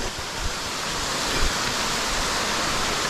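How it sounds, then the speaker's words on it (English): A mountain stream on Mt. Lafayette rushing steadily nearby, a dense continuous broadband wash of flowing water with no voices. "That's another stream coming in right there."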